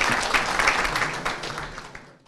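Audience applause at a Yörük Türkmen cultural workshop in Antalya, welcoming the head of the Turkic Tribes Confederation to the stage. The dense clapping holds steady, then fades out near the end, with no voices over it.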